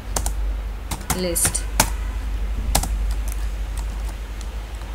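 Quick keystrokes on a computer keyboard as an unsorted list is entered for a Python insertion sort program, sharp clicks spaced irregularly under a voice speaking Hindi.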